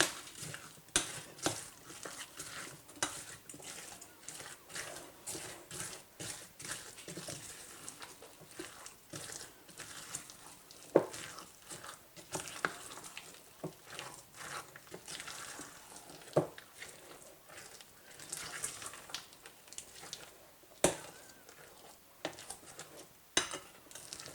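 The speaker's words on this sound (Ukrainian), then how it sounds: "І тепер додаю в тісто і все добре змішую" Sliced apples, three of them, being stirred by hand into a thick kefir cake batter in a bowl, with a steady run of soft wet scraping and clacking utensil taps against the bowl throughout, fairly quiet and close, with no talking.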